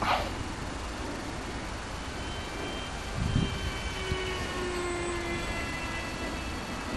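A small, fast RC Mini Viper jet conversion with an electric motor flies at dusk, its distant whine and drone droning steadily with faint tonal lines drifting in pitch as it passes.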